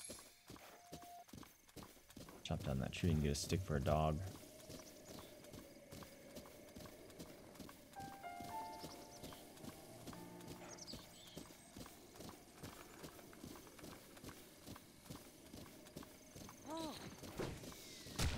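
Horse hooves clip-clop in a quick, steady rhythm in The Legend of Zelda: Breath of the Wild, with a whinny near the start, game music underneath, and a voice talking over part of it.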